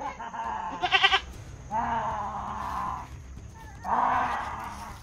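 A goat bleats twice in long wavering cries over a steady background hum, with a brief sharp electronic burst before the first call.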